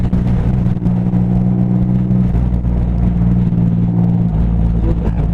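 A big motorcycle engine pulling hard under throttle through the gears, a loud, close, continuous low rumble with steady droning tones and slight pitch changes as it accelerates.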